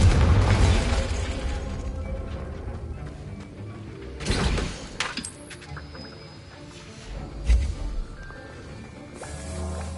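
A Confringo spell explosion in the video game Hogwarts Legacy opens with a loud burst, followed by further booms and pops with clinks and mechanical rattles between them.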